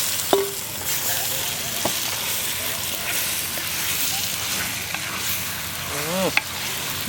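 Marinated mutton sizzles and crackles steadily as it cooks in a clay pot for a village-style Telugu mutton curry, with stirring scrapes and a few short clinks standing out over the continuous frying hiss.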